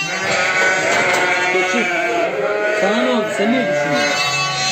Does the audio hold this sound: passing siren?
no